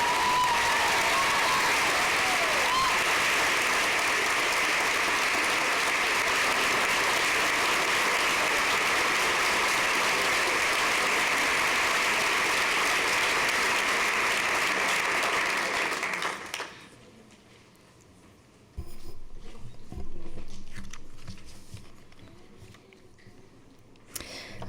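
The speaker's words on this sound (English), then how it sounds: "Please give her a warm applause." A school district governing board meeting audience claps for a student honored with a national essay award: a dense, steady wash of applause for about sixteen seconds that cuts off abruptly, leaving quiet room noise with a few faint stray sounds.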